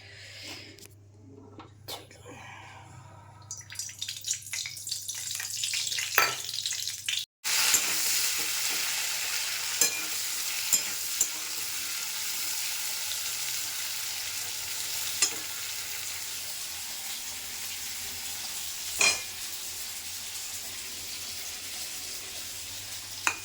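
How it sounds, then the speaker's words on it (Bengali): Mustard, chilli and garlic paste fries in hot oil in a wok. Quieter scraping and clatter come first, then a loud, continuous sizzle takes over, broken by occasional sharp clinks of stirring. "কড়াই তেল দিয়ে দিয়েছি এখানে সর্ষে বাটা লঙ্কা বাটা একটু রসুন বাটা দেবো"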